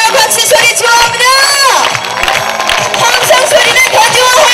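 A festival crowd at a summer seaside broadcast concert cheers and whoops loudly, a dense roar of voices with shouts rising over it, and a voice calls out above the noise.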